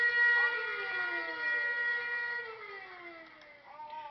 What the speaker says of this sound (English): That's my alarm that goes off when I'm being attacked